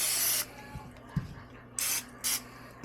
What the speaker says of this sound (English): I'm just going to take a little bit of this sprayed canola oil, oil them down a little bit.